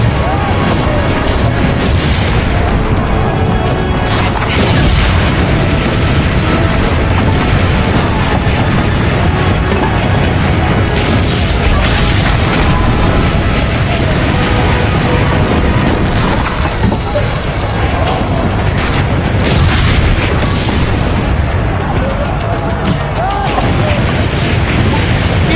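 Repeated heavy cannon booms and explosions from the Assassin's Creed Brotherhood video game crash out one after another, loud and dense, layered with battle noise and occasional speech throughout.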